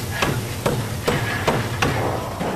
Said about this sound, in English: Let's try the lump hammer.